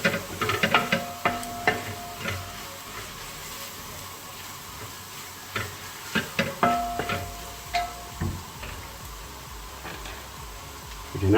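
Spoon stirring a Kuttanadan duck curry mixture with turmeric powder in a pot, giving a series of irregular scraping and clinking strokes up close, with short pauses between bursts and no talking.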